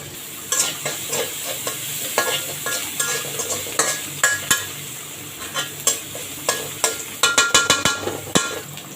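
Crushed garlic sizzles in hot oil with green chillies while a utensil stirs and scrapes the pan, giving sharp clattering knocks in irregular bursts over a steady frying hiss.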